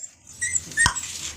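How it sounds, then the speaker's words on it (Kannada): A dog gives a single short whimper or whine at night in Gokak, close by and brief, over faint background noise. "ನಾಯಿ ಪಾಪ"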